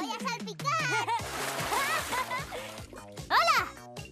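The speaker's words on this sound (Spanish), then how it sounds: "Me voy a salpicar." Cartoon water splashing in a dog pool party, with bursts of sloshing and splatter over lively music and children's voices talking and singing throughout.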